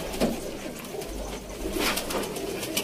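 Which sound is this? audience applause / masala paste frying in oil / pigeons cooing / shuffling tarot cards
pigeons cooing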